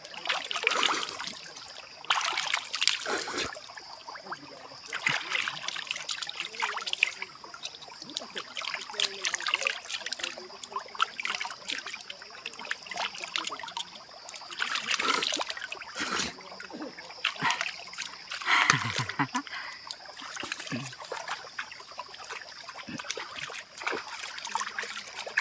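Cold water trickling and splashing in a forest stream, a continuous close bubbling flow with intermittent splashes and disturbances throughout.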